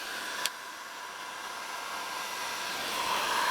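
A heat gun blows steadily on a plastic water bottle fitted over a broken pool or vacuum hose, giving a constant airy hiss with a brief click near the start, then growing slightly louder.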